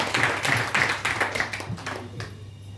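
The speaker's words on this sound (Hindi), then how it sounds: "जोरदार तालियां इसके लिए।" A live audience claps at a product presentation in a run of sharp, fairly regular claps that fade out and stop after about two seconds.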